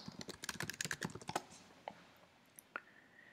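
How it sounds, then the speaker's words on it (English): Keystrokes on a computer keyboard as a console command is typed, a quick burst of close clicks for about a second and a half, then a few isolated taps. "I'm going to type pod install."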